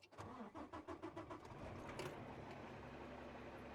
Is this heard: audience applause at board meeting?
no